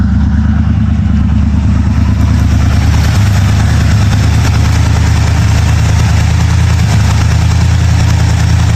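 A Chevrolet Scottsdale pickup with a rebuilt Holley carburetor idles close by, a loud, steady low rumble with an even throb and no voices.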